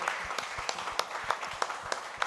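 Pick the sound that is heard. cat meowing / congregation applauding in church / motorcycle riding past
congregation applauding in church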